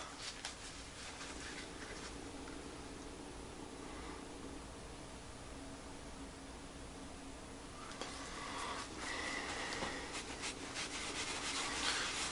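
Rag rubbing wood bleach into a dark streak on a guitar top, a soft steady scrubbing hiss that grows slightly louder and busier toward the end.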